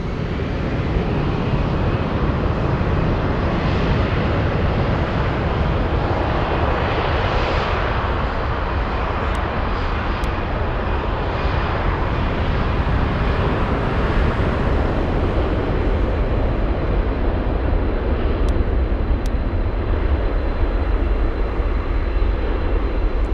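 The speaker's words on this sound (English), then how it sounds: "The sound you're hearing is the sound of another 747 heading to the runway." A Boeing 747 taxis toward the runway at Frankfurt airport in the evening, its engines giving a loud, continuous roar that swells and ebbs slightly as it passes, with no voices.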